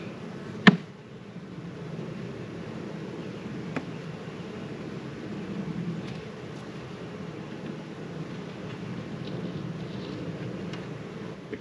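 Honeybees buzz in a low, continuous drone as they are shaken off a hive frame, with a sharp knock early on and a few faint clicks and rustles over the steady hum.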